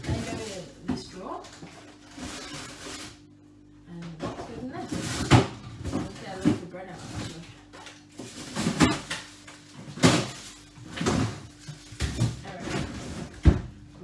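Kitchen drawers and cupboards open and close repeatedly while shopping is put away, giving a series of close knocks, slides and clunks mixed with rustling and a person talking.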